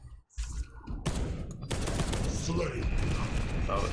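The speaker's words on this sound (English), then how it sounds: "Oh, plasma cannons." Plasma cannons firing in the Space Hulk: Deathwing game: a sharp blast, then a loud, sustained roar of heavy weapon fire and crackling bursts continuing to the end.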